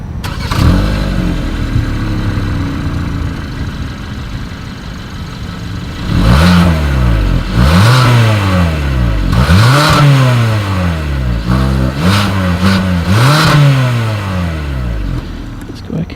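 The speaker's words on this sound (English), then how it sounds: "Here is that exhaust clip." A 2020 Hyundai Santa Fe idles, then its engine is revved repeatedly through the exhaust with a chrome tip, in several sharp rises and falls heard close from the rear.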